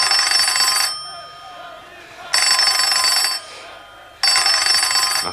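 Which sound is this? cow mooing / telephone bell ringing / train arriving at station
telephone bell ringing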